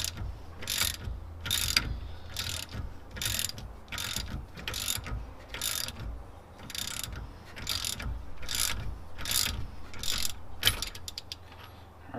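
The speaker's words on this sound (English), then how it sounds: "we're just going to tighten this bolt, and it's going to hit this, and it'll force this to pull out your harmonic balancer" A ratchet wrench tightening the bolt of a harmonic balancer puller on an LS1 V8 engine, about a dozen evenly spaced rapid clicking bursts, close and distinct with no talk.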